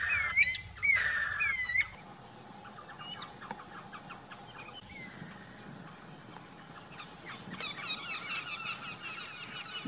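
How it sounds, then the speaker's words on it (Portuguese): A flock of guira cuckoos calls on a rural trail beside a banana plantation. Bursts of harsh, squealing cries are loud at first and near, then continue more faintly, rising again toward the end. "Havia um bando de anu branco. E me brindaram"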